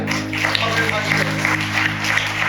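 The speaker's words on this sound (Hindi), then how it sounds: "ताली बजाएं जोर से" A congregation at a Hindi-language church service claps loudly and steadily, with sustained low tones running continuously beneath the clapping.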